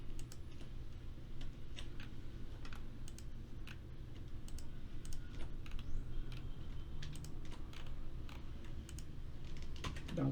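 Quiet, rapid computer keyboard typing with mouse clicks, light irregular ticks over a soft steady background hum, with no talking.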